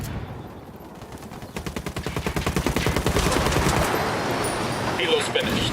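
Mortar fire and rapid gunfire ring out in Ghost Recon Wildlands, a fast rhythmic volley of shots that builds in loudness into a dense continuous barrage, with radio voices talking over it.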